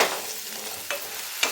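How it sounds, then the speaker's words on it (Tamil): Steady hiss of tomatoes sautéing in a frying pan for tomato chutney, with two brief scraping stirs partway through; no voices. "எல்லாம் சேர்த்துட்டு நல்லா வதங்கட்டும்."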